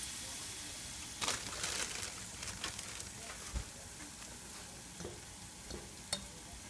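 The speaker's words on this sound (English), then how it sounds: "Please make sure it's a shallow fry." Battered oyster mushrooms shallow frying in a pan of oil, a constant close hiss of sizzling with occasional pops and spatters, faint and steady throughout.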